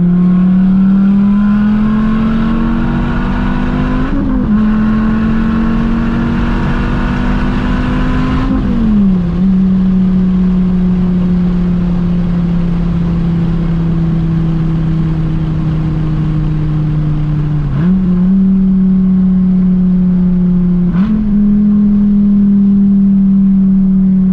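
A car engine revs loud and close while accelerating in third gear, its steady drone rising in pitch and then dipping briefly several times as the throttle lifts and reapplies, with no talking.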